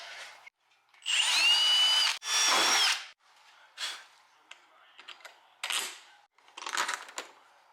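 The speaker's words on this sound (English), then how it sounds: "we need to drill out the hole for the bracket" A power drill fitted with a 1/4 inch bit bores a bracket hole through a door panel, two loud sustained whirring bursts of about a second each, then quieter intermittent clicks and short handling noises.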